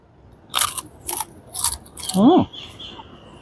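Crunchy food is bitten and chewed at Camper's Deck in Lucena City, producing four crisp, loud crunches spaced roughly half a second apart, followed by a brief voice.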